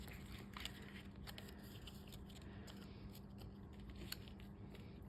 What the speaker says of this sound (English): Okay, so I'm going to cut this out with my snips